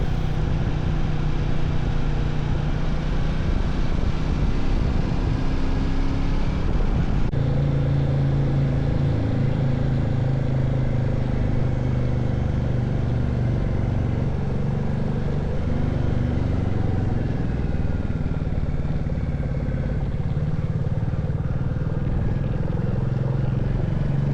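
Royal Enfield Classic 350 single-cylinder engine heard while riding through hilly country roads down toward the Rhine valley, a steady, loud low drone with a brief shift partway through, alone with no talk.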